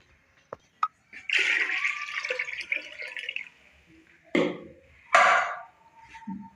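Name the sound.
pouring water into a soup pot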